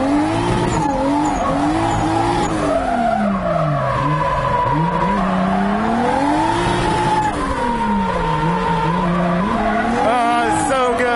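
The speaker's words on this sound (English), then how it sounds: "the rev limiter is amazing" Big-turbo 2JZ-swapped Nissan 240SX drift car bouncing off the rev limiter mid-slide, a loud rasping engine note wavering up and down with tire squeal, close and sustained, with excited voices over it.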